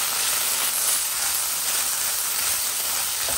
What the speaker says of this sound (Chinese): 把辣豆瓣酱放进来。 豆瓣酱一定要炒一下才会香